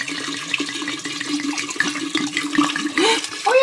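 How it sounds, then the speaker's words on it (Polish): Water gushing steadily from a tap left running, a continuous close splashing rush that swells toward the end, with no talk over it. "O Jezu, leje się"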